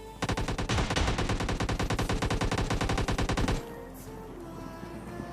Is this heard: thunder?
no